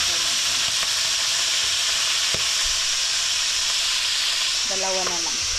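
Fish fries in hot oil in a home kitchen, giving a steady loud sizzle and hiss throughout, with a few light clinks of utensils near the end and no talking.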